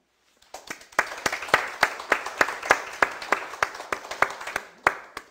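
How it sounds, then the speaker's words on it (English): Congregation at a church worship service applauding, a steady run of individual hand claps that starts after a short pause and carries on for about five seconds at moderate distance. "I think we need to give an applause to them."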